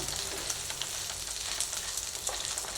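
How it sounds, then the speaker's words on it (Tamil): Onions sautéing in a pan for a spicy peanut chutney, giving a steady, soft sizzle that runs evenly throughout at a moderate, close-up level, with no talking. "வெங்காயம் ஓரளவுக்கு நல்லா வதங்கிடுச்சு"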